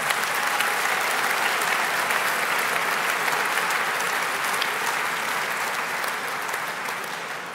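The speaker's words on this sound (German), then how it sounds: "Ja, Applaus" Steady, dense applause from a carnival-session audience, loud and sustained without a break and easing slightly toward the end.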